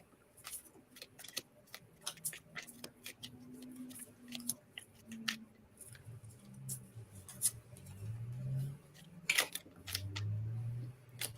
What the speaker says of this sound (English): Let's start shuffling